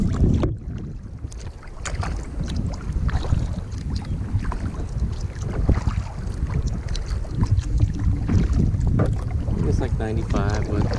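Wind buffeting a microphone while kayaking on Bear Creek Lake on a hot day, a continuous loud rumbling roar with water and boat noise underneath throughout.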